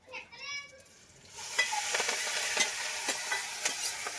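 A voice is briefly heard, then spices drop into hot oil for a Gujarati tempering on a stove and a loud, crackling sizzle takes over, spattering with sharp pops close by.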